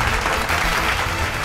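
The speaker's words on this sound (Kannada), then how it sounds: "ಎಲ್ಲರೂ ಚಪ್ಪಾಳೆ ತಟ್ಟೋದ್ರ ಮೂಲಕ ಅವ್ರನ್ನ ವೆಲ್ಕಮ್ ಮಾಡಿ." A studio audience on a Kannada TV show claps to welcome a fusion dancer. Dense, steady applause fills the whole short stretch, loud and even, with no speech over it.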